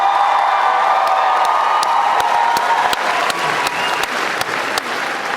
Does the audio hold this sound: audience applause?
yes